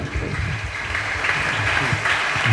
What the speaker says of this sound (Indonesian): Tepuk tangannya buat Kang Rizik.